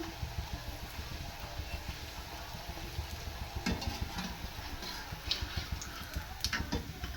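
Puris made with poha frying in a pan of oil, giving a continuous soft bubbling sizzle with faint ticking crackles and occasional light utensil touches, fairly quiet and steady.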